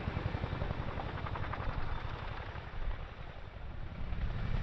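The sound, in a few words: Chinook helicopter flying at airshow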